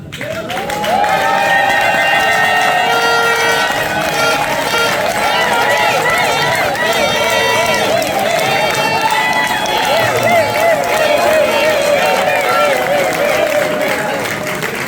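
An audience loudly applauds and cheers for European deputy Thierry Michel at a Congolese political gathering, a dense sustained wash of clapping mixed with voices calling and chanting throughout.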